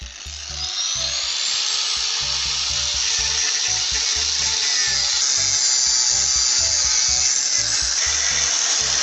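A power tool cuts a wooden block for a homemade door bolt, giving a loud, steady high-pitched whine with a rhythmic low pulsing beneath it that runs continuously without speech.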